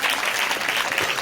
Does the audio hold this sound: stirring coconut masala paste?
no